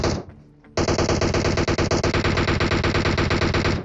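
Automatic gunfire in a battle royale mobile match opens after a brief lull, then rattles on as a loud, rapid burst of closely spaced shots sustained to the end.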